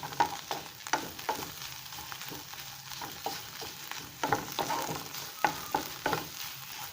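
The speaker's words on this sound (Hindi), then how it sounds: "अब हम इसमें प्याज डालेंगे।" Chopped onions soften in oil in a pan, giving a steady low sizzle broken by repeated scraping stirs of a spoon at an uneven rhythm, close by with no voices.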